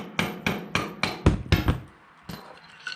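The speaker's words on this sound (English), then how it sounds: "I'm just going to put my screwdriver in there and just start pounding on it" A screwdriver hammered against a cast iron bearing holder on a John Deere 830 tractor crankshaft, giving about nine sharp, loud metallic strikes in an uneven rhythm, close and with no talking.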